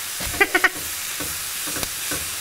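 Shrimp sizzling in a frying pan while being stirred, a steady close hiss with a few quick scraping clinks of a utensil against the pan early on, then softer stirring strokes, with no talking.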